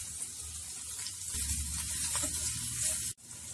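Curry leaves and green chili sautéing in hot oil give a steady, close sizzle with soft stirring scrapes; the sizzle cuts off abruptly near the end.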